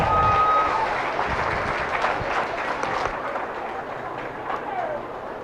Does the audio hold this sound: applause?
yes